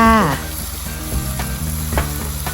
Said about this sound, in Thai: พัดไปพัดมาจักคู่ใหญ่ๆ